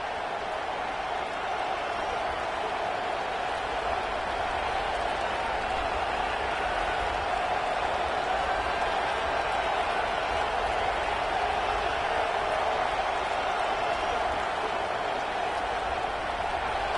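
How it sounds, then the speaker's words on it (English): Football stadium crowd at a Tennessee vs Washington State game roars steadily as play starts, a dense continuous wall of cheering and noise that holds at a constant loudness throughout. "This crowd ready to make its presence known."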